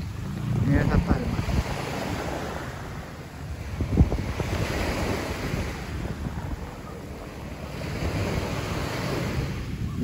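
Caribbean Sea waves washing onto a beach at Guayanilla, Puerto Rico, at nightfall, with gusty wind buffeting the microphone, fairly close and steady, no talk.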